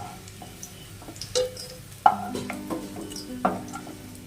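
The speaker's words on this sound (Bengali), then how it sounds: "উচ্ছেগুলো ভালো করে ভেজে নিয়েছি, এবার একটি পাত্রে এগুলো তুলে নেব।" Fried bitter gourd is scooped from a frying pan into a bowl: a soft sizzle and scraping are punctuated by three sharp utensil clinks against the pan, close and moderately loud, with no talk.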